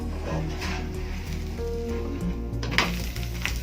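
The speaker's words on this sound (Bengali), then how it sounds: "এবার নিচের পিঠটাও এরকম ভাবে ভেজে নিয়ে চেপে চেপে ভেজে নিয়ে তারপর নামিয়ে দেবো" Food sizzling and frying in a hot pan, a steady crackling hiss with occasional louder pops and faint utensil scrapes.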